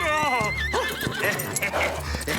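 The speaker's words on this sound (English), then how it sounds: "No eating the flowers, naughty horse!" A cartoon horse whinnies loudly and close, a quavering neigh, followed by snorts and a few hoof clops.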